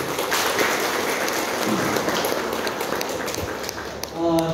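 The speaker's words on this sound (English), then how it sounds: "You guys deserve one big round of applause for yourself." Broadband crackle of applause at a BLS and CPR training session, with a dense rain-like patter of many hands. It holds steady and fairly loud for several seconds, then thins near the end as a voice starts to speak.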